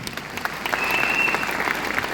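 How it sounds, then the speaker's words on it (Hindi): A crowd breaks into steady applause, many hands clapping at once, filling the room for a couple of seconds. "मैं चाहूँगा बहुत जोरदार तालियों के लिए"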